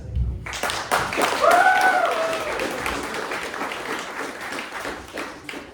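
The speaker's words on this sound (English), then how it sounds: "Uproarious applause." Loud audience applause after a hackathon demo, breaking out suddenly and swelling, with whoops and cheering voices riding over the clapping before it slowly thins out.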